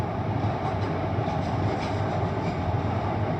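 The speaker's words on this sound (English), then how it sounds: "After this train passes, I'll go." A train rumbles steadily past up close in North London, a continuous heavy roar with rhythmic rail clatter throughout, no voices.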